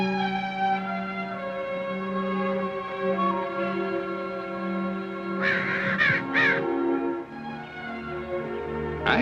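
A baby crow away from its nest caws and squawks continuously, loud and close, with raspy cries rising into sharper calls partway through.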